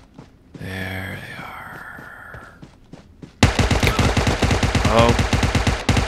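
Rapid automatic gunfire in the mobile battle-royale game PUBG Mobile, a dense, loud stream of shots that starts suddenly partway through and keeps going, after a quieter stretch where someone talks.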